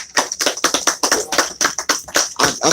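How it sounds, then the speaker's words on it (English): An audience applauds at a Black and Noble bookstore event, a dense, loud burst of hand claps with a quick uneven rhythm that carries on steadily throughout. "Let's give them a round of applause."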